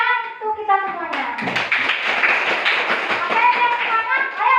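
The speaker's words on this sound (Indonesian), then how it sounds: "tepuk tangan untuk kita semuanya" A class of young children in Indonesia claps together after a teacher's prompt, a lively burst of hand claps following her sung voice, with kids' voices mixed in.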